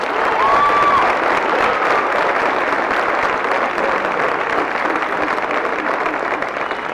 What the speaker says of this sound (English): Can we give them a big round of applause for their appreciation for it?